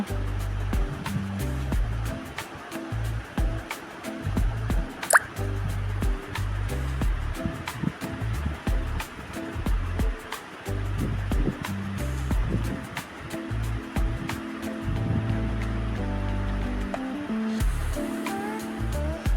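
Sliced ridge gourd goes into a pan with potatoes and cooks, giving a dense, rushing sizzle with scraping and stirring noises that stays loud and close throughout.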